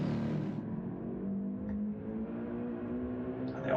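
Gr.3 race car engine accelerating hard on the Nürburgring Nordschleife in a racing video game, a steady, loud, close droning whine with rising harmonics, heard alone without talk.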